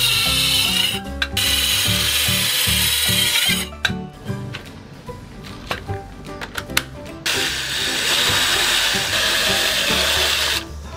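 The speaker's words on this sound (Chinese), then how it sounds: "我们现在呢要把这边把它切断一下" A saw cuts through a wooden piece for a DIY camping wagon table with rough, rasping strokes, loud and close, pausing briefly midway amid a few knocks and handling sounds before cutting resumes.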